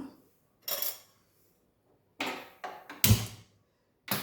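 A pan set down on a home kitchen stove before cooking capsicum curry, heard as a few separate metallic clanks and knocks close by, with one sharper ringing clatter near the end and quiet gaps between.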